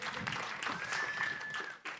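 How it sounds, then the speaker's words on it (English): Applause from an audience at a Caribbean cultural panel event, a dense steady patter of clapping held throughout, with a brief dip near the end and a faint tonal whistle running through the middle. "Can we please give a round of applause?"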